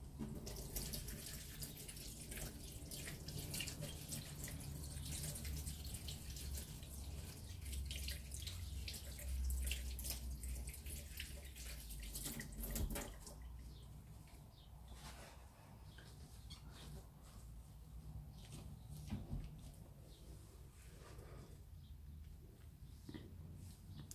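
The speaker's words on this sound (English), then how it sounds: "Right, wash hands." Tap water runs into a sink while hands are washed, a soft continuous splashing hiss that thins out partway through into lighter trickles and drips.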